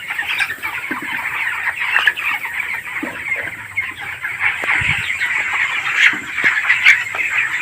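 Young chickens, about twenty days old, clucking and peeping constantly in a poultry house, many birds overlapping in a busy, close chorus with occasional louder calls.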